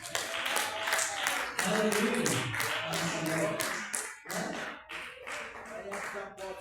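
Church congregation clapping hands in a quick, rhythmic beat, close and lively, with voices speaking and calling out over the claps.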